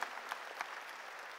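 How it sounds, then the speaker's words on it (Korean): A church congregation claps softly and steadily together, the applause faint and distant with a few sharper claps standing out. "믿으면 박수로 하나님께 영광 돌려가지고."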